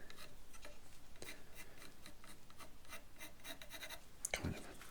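A pencil sketches a line on a wooden Stratocaster guitar neck being carved, giving faint, rhythmic scratchy strokes, close and quiet, with a soft knock near the end.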